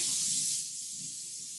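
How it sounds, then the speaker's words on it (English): A steady cooking-spray aerosol hiss sprays onto a rimmed baking sheet for about half a second, then softens into a quieter continuing hiss. "with cooking spray so that the beans don't stick"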